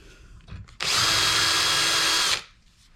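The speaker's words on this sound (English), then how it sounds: "I'm going to put this in the vise and see if I can't drill that out" A power drill whines loudly and steadily for about a second and a half, drilling out a bolt held in a vise, then spins down, with faint handling noise before it starts.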